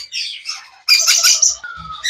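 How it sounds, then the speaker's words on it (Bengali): Young caged birds of several breeds at a pet bird seller chirp and squawk in shrill bursts nearby, with a louder burst of calls midway and a thin whistle near the end. "দেখছেন এগুলো এরকমই পাখি মাশাল্লাহ অনেক অ্যাক্টিভ"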